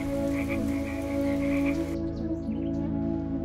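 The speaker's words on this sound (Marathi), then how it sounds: "जणू पावसाचे थेंब वाजतात, बेडूक सूर लावतात व निसर्ग ऐकत राहतो." Frogs croak in a rural Konkan setting, a dense, steady chorus of overlapping calls that stays loud and continuous throughout, with no voices.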